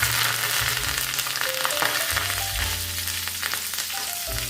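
Mustard seeds, asafoetida and curry leaves crackle and sizzle in hot oil for a tadka, a steady, close, dense frying hiss that runs throughout over a soft melodic background.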